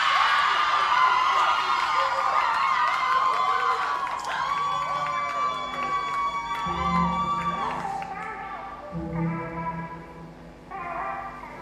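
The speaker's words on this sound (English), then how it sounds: "They've been cheering all evening, and I think they're going to cheer some more." Audience cheering and shouting at the Marcus Garvey Awards for Excellence in the Performing Arts in Jamaica, a sustained loud crowd roar with high-pitched screams and whoops, with a voice speaking over it.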